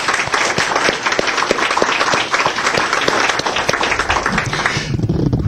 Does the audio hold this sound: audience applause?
yes